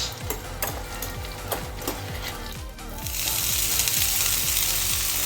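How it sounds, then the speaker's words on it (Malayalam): Pappadam frying in hot oil in a home kitchen, a steady loud sizzle that swells after a few seconds, with repeated clicks and taps of a utensil against the pan. "അപ്പം അങ്ങനെ പപ്പടം പൊരിക്കുന്നു"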